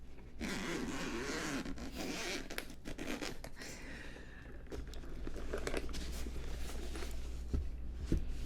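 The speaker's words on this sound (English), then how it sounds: "can you hear that zipper sound moving around your ears?" A zipper on a Steam Deck carrying case is drawn open and closed several times up close, with long rasping runs separated by brief pauses and soft fabric rustles.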